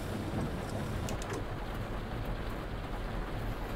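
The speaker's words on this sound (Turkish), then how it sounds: "Yağmurda sanırım artık duracak gibi sanki." Rain falls steadily outside a city articulated bus in a dense, even hiss, fairly faint and continuous, with no voices.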